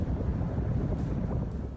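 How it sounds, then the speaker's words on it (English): Wind buffets the microphone on a volcano in Chile's Los Lagos Region, a continuous low rumbling roar, gusting unevenly throughout. "It's starting to get very windy"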